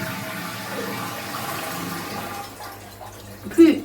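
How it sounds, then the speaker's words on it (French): A repaired toilet flushing in a small studio flat, a steady rush of running water that thins out and ends with a brief gurgle, moderately close. "Mais la toilette refonctionne."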